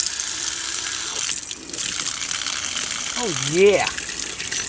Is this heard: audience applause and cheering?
no